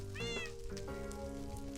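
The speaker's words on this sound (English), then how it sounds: "I can definitely hear a meow." A cat meows in the video game Minecraft, one clear rising-and-falling meow heard close, followed by a softer second call over a faint background patter like rain.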